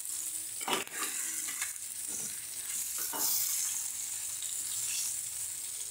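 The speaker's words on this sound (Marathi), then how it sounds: "मिरची आपण हलवून घेऊया. याच्यावर थोडे डाग येईपर्यंत" Bell peppers being stirred while they fry in a pan, a steady bright sizzle with a few scraping stir strokes cutting through, close and continuous.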